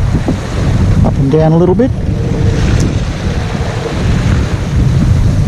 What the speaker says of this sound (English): And I've had a northwester all day.